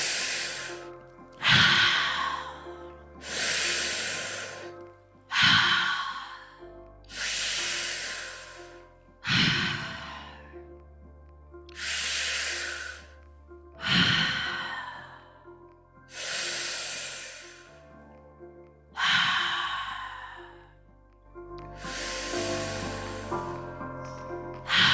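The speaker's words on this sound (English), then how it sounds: "begin our breathing in through the mouth, out through the mouth, deep breaths into the belly" Slow, deep breaths drawn in and pushed out through the mouth repeat about nine times in an even rhythm, each a loud, close, airy rush followed by a brief pause, during a guided breathing exercise.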